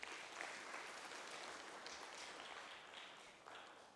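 An audience at a World Skills South Africa conference applauds the organizers: a steady, dense wash of clapping from a crowd, fairly faint and distant, holding evenly throughout.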